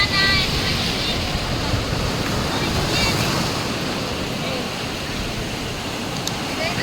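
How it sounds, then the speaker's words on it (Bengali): Strong sea waves crash and roll onto Digha beach, a loud continuous surf roar with gusting wind buffeting the microphone, steady throughout. "এত ঢেউ, এত ঢেউ যে পুরোপুরি অবস্থা খারাপ হয়ে যাচ্ছে"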